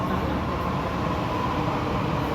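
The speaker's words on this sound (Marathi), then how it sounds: "हे बघा गाईस, मेट्रो आलेली आहे आमची." An underground metro train pulls into a station platform with a broad, steady rumble and rushing roar, moderately loud and close, without clear voices.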